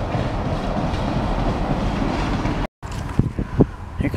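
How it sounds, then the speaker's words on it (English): A train rolls past on the rails with a steady, loud rumble and clickety-clack, then breaks off briefly before rattling wheel clicks return. "Here comes our next train."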